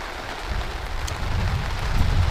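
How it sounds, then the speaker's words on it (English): Steady rain falls at a campsite in gusting wind, a dense continuous patter with low rumbling buffets that swell slightly toward the end, with no voices. "it's raining"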